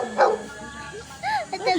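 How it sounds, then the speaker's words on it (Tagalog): A large dog barks and yips in a few short, sharp calls close by, with people talking around it. "Hala, ang aso, tingnan mo. Ang laki."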